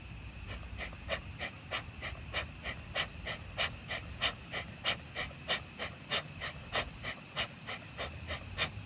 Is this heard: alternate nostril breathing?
yes